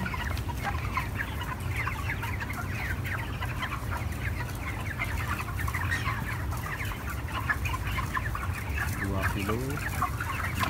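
Many chickens cluck continuously in a dense, busy flock on a poultry farm during feed weighing, close and steady throughout.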